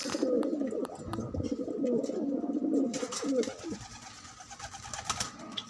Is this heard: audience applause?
no